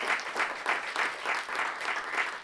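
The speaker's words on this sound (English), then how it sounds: "Let's get a round of applause." Audience applause fills the room at a moot court showcase, a steady wash of many hands clapping with gentle pulsing swells, moderately loud and continuous throughout.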